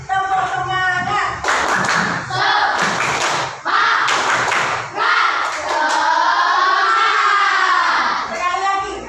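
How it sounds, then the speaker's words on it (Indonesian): A school class ends a lesson with tepuk semangat, a rhythmic patterned clap. Loud, close bursts of hand claps alternate with children chanting together, and the sequence repeats several times. "Mari kita tutup pembelajaran dengan tepuk semangat."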